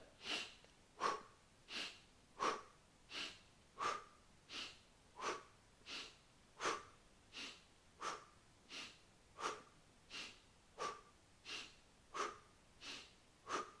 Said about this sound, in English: So it's inhale, pause, exhale, pause.